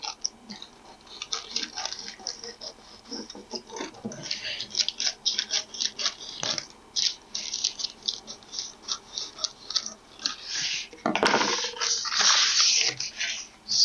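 Scissors snip through a paper dress pattern in quick, uneven runs of close crisp cuts with rustling paper, under intermittent speech.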